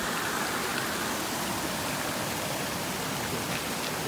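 East B Hill Falls on the Appalachian Trail between Bethel and East B Hill pours in a steady, broad rushing wash of water, even and continuous with no voices.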